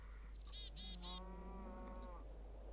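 A cow moos once in the Minecraft Tekkit modpack, a drawn-out low call with a rising tone, heard quietly alone over a steady hum.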